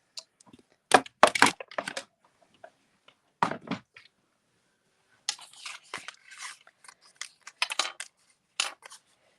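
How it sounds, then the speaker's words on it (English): A Stampin' Cut and Emboss machine cuts paper shapes through a die, producing bursts of clattering, crackling mechanical noise separated by short pauses of near silence. "we'll just cut those out while we've got our Stampin' Cut and Emboss machine handy"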